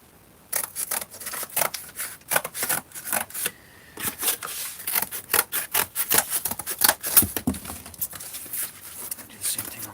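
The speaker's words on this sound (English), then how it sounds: "Now I just need to cut this right here." Packaging material being cut for shipping, a close, rapid run of crisp snipping and rasping cuts in uneven bursts, loud and heard alone with no talk.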